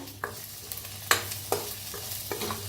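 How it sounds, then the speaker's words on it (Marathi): Masala for kat vada fries in oil in a pan while a spatula stirs it, with a steady sizzle broken by four or five crisp scraping strokes, close and clear, no talk. "हलवून घेऊया."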